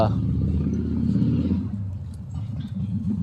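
Motorcycles riding up at the house next door on a farm make a low, steady engine rumble that swells and settles, with a voice talking over it throughout.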